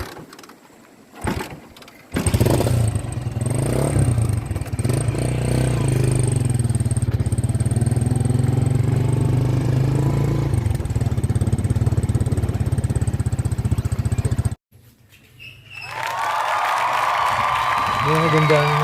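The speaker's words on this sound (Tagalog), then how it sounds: "Dito na banda marinig nyo na magpapastart ng motor si kuya." A motorcycle kick-started by a seaside road, its engine running loud and steady with a persistent drone, then briefly cutting out before rumbling again, close by.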